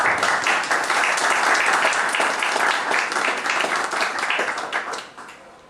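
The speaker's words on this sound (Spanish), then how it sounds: "Pues les damos un caluroso aplauso a todos ustedes." Audience at a formal agreement ceremony of a psychiatrists' college giving warm applause, dense and loud crowd clapping that holds steady and then fades off at the end.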